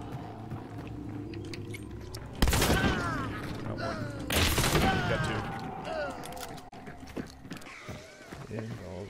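Two loud, sharp blasts of gunfire from the video game Hunt: Showdown, a few seconds apart, each trailing off into a rumble under ongoing voice chat and game ambience.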